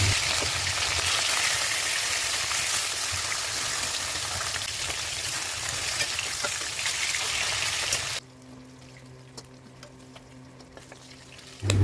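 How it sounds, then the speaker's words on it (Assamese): Fish pieces, rubbed with turmeric and salt, fry in hot mustard oil in a wok, a loud, even sizzle that runs for several seconds and then cuts to a quiet hum. "কেৰাহীটো গৰম হোৱাৰ পিছত মিঠাতেল দি মাছকেইডোখৰ এপিচ এপিচকৈ দি দিলোঁ।"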